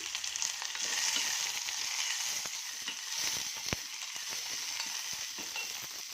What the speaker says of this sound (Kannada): ಇದು ಸ್ವಲ್ಪ ಫ್ರೈ ಆಗಲಿ.